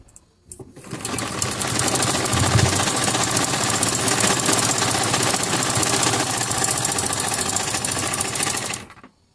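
A sewing machine stitches a zigzag design along a fabric edge, running loud and continuously for about eight seconds with no speech over it.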